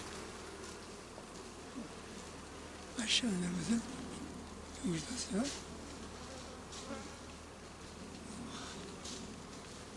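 Honey bees hum densely around an open hive during spring colony splitting for queen rearing, a steady buzzing swarm with a few louder passes close by, while a person speaks briefly.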